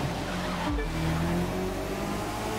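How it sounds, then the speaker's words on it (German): A Renault Megane S with four-wheel steering racing in The Crew 2, its engine holding a steady drone with a quick dip and shift in pitch partway through, at moderate level. "Ich fahre gerade mit dem Megane S um den Sieg"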